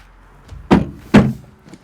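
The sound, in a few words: Ferrari Monza car door being opened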